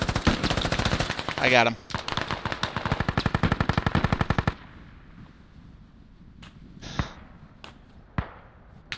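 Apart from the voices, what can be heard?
gunfire in a video game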